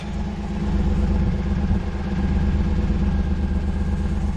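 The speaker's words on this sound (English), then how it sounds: "It almost sounds either a lifter tick or a very small exhaust leak." An engine idles steadily up close with a rapid, regular ticking woven into its low rumble, no voices; the tick is from a lifter or a very small exhaust leak.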